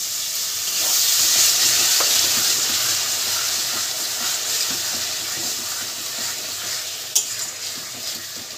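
Spice masala for chicken kosha sizzling and hissing in a pan after a splash of water, a steady steamy fry with occasional stirring scrapes and one sharp clink near the end.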